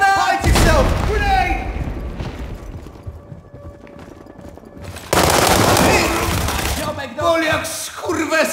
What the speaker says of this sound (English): Kurwa, granat! Hide yourself! Grenade!